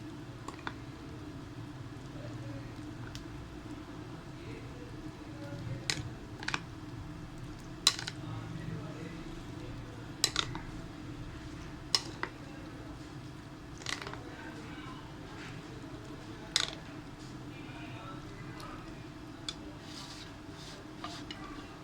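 Steel spoon clinking against a bowl while dahi vada ingredients are stirred together with green chili, several sharp scattered taps over faint room hum.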